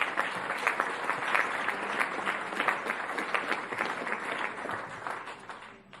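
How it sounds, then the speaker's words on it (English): A crowd at a Palm Beach County school board meeting gives sustained applause for an employee honoree. The dense clapping stays even and then fades toward the end. "Let's give her a round of applause."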